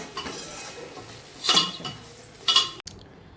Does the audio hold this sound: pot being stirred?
yes